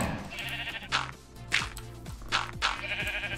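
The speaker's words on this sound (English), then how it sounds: "Oh, this is gonna be annoying with all these sheep." Minecraft sheep bleating in the game, several separate bleats spread over a few seconds, some overlapping, heard clearly with no talking.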